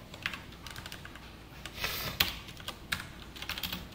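Code being typed on a computer keyboard, a quiet run of scattered key clicks in uneven bursts, some taps sharper and louder than others, with no talking.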